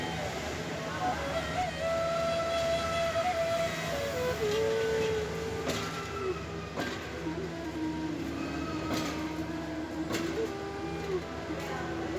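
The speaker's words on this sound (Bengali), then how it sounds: "ব্যস্ত হয়ে উঠে এই ঢাকার প্রাণকেন্দ্র কমলাপুর রেল স্টেশন" Steady, busy station hubbub at Kamalapur railway station, Dhaka, with a continuous low rumble, scattered clatters and knocks, and a drawn-out mechanical tone sliding down in pitch.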